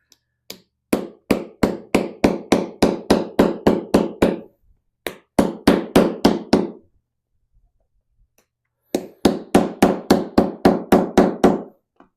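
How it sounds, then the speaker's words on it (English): Rapid metallic taps of the small end of a round hammer on copper sheet, in three bursts of about a dozen evenly spaced blows each, separated by short pauses, close and crisp. "I'm going to take the small end of this round hammer, and I'm going to hammer right on this part."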